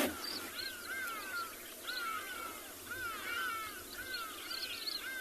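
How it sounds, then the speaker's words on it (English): Hadeda ibises call repeatedly in the distance at sunset on a safari, loud harsh honking cries in uneven bursts over steady outdoor background noise. "You can hear the hardy-duck ibis in the back."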